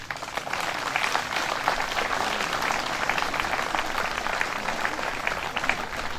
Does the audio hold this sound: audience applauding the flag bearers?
yes